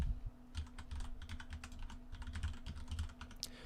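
Fast, steady clicking of keys on a computer keyboard as an email address is typed, close and crisp with short pauses between bursts.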